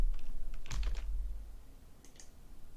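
A few quick computer keyboard key presses for an undo shortcut while editing an image in Photoshop, close and crisp, clustered in a short burst with a couple of lighter taps afterward and no talking.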